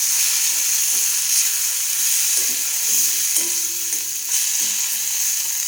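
Roasted chili and coriander powder with turmeric are stirred into a simmering egg curry, a steady close sizzle with soft scraping strokes of the spoon and no talking.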